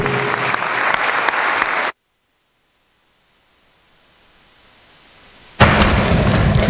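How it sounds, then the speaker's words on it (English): Chamber applause in the West Virginia Legislature honoring caregivers, loud crowd clapping that cuts out abruptly into near silence, then resumes just as loudly. "Please join me in a round of applause"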